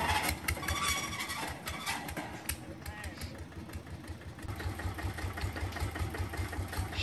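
A Japanese walk-behind tractor on large metal lugged wheels strains to drive forward in Vietnam, its engine chugging steadily nearby with metal clanking, while a person talks over it.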